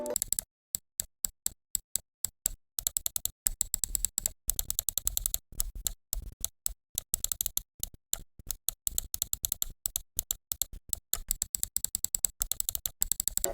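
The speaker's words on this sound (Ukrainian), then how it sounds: "Бічні клавіші, так само як у Raid, мають пре та пост-тревел, але сам клік чіткий та зрозумілий, та досить гучний" Sharp, fairly loud clicks from the side buttons of a Proove Gaming mouse, pressed in rapid irregular bursts with brief gaps, close and alone.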